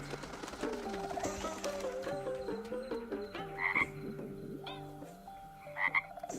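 Frogs croak in an animated feature film, a run of rhythmic, throaty calls that rise and fall across several seconds, with a couple of higher chirps near the end.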